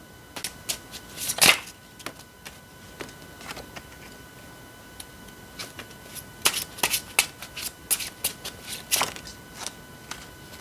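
Tarot cards shuffled by hand in a quiet room, with soft riffling and flicking in irregular bursts, some sharper snaps standing out, and no talk over them.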